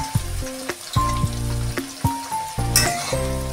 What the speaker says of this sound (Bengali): ভেজে নেবো আবারও।